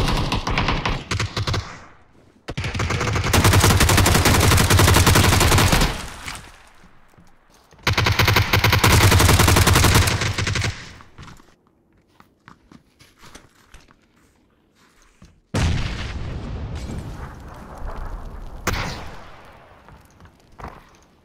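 Sustained bursts of automatic gunfire from the video game PUBG on the snowy Vikendi map, loud and dense in three long volleys separated by quieter gaps, with no talk over them.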